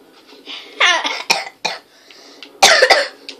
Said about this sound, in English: Got a bad cough today.